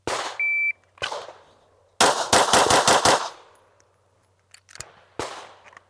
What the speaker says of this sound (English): it's gonna be 6 shots as fast as possible in the A box